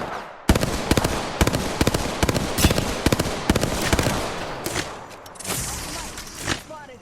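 Gunfire in the battle royale game Apex Legends rattles in dense, rapid bursts for about seven seconds, loud and close, with a brief lull near the end.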